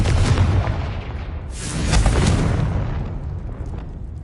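A Confringo fire spell explosion in Hogwarts Legacy, a loud, close booming blast with a deep rumble that swells midway and then tails off into a lingering roar.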